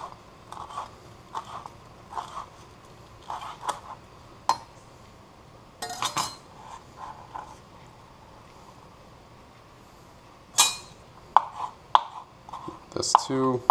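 A knife dicing green onions on a cutting board while making ramen noodles: clusters of quick, crisp chops in short bursts, with some louder knocks against the board near the end.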